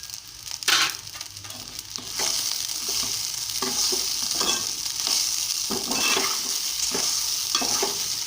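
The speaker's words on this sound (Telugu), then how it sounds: "కాసేపు ఇలా వేయించుకోవాలండి రైస్." Rice stir-fries in a hot pan with a pinch of turmeric, giving a steady close-up sizzle broken by repeated scraping and stirring strokes, with no talking.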